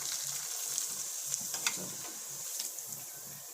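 Wheat flour papad frying in hot oil, a continuous close sizzle with a few sharper crackles and pops scattered through, no voices.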